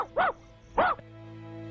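A dog barks twice on command, two loud, separate barks in quick succession, followed by a low room hum and no talking.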